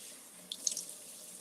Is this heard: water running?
yes